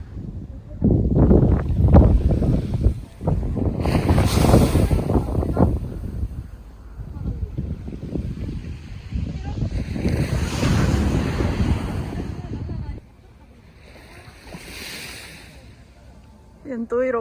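Ocean waves crash and roll in a loud, rushing wash with heavy wind buffeting the microphone at Ilgwang Beach near Gijang, South Korea, while people exclaim and talk over the surf.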